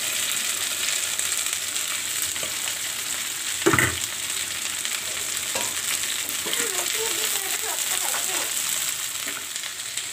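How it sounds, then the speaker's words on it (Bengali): Okra frying in a pan with half-fried onion and chopped green chilli, a steady close sizzle with occasional stirring scrapes and one sharp clatter early on, no talking. "এখন আমি দিয়ে দেব ঢেঁড়স, কেটে রাখা ঢেঁড়সগুলো"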